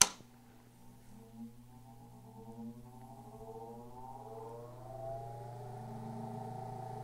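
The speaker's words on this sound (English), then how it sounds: "All right, so we've got the engine up and going." An aircraft engine starts with a sharp initial burst, then settles into a steady droning hum with tones that climb gradually as it runs up, heard fairly faint and without any talking.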